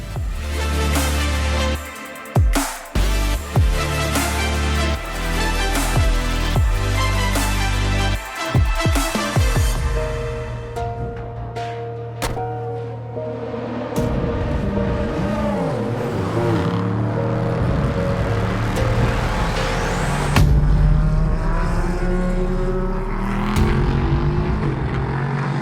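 Onboard a race car lapping Portimão circuit during a European Le Mans Series endurance race: a loud, sustained engine roar with rising and falling revs through gear changes, downshift blips under braking and constant wind and road noise.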